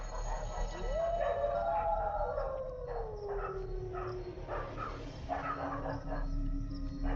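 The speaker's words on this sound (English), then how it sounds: "How's the howl anything but a dog howl?" A single long dog howl rises, holds, then slowly falls and fades, sounding somewhat distant over a steady background rumble, with faint talk later.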